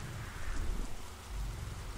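Steady rain and rolling thunder from a thunderstorm in the dinosaur survival game Beasts of Bermuda, a broad low rumble swelling under continuous hiss, no voices.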